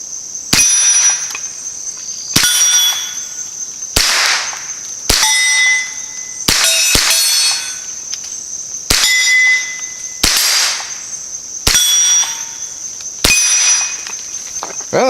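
A Ruger 10/22 fires Aguila .22 rounds from a drum magazine at steel targets, loud sharp reports at a steady pace, each followed by a ringing metallic clang, about ten shots in all.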